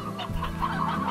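Roosters cluck in the Slime Rancher video game, a short run of close, bright clucks and calls repeating over a low steady game hum.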